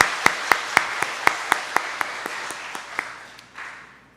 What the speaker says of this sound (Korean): 우리 성가대를 위해서 우리 한 번 더 박수로 격려해 주시면 고맙겠습니다